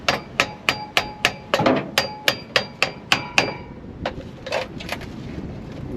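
Screwdriver tapping on a stuck engine lifter in a 1968 bus, about a dozen sharp metallic clinks in a quick, even run, then a few softer, scattered knocks, close and clear.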